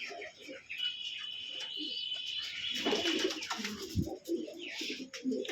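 Pigeons kept in a breeding loft, offered for sale, cooing softly with scattered chirps and low murmurs over a steady background, with some voices nearby.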